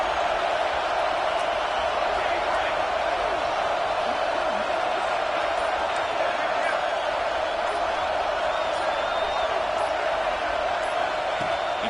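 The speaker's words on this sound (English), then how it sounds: "It's early, but this crowd is fired up. Listen to this noise here." A fired-up crowd at a football stadium roars as a steady, dense wall of noise that never lets up, heard from within the stands.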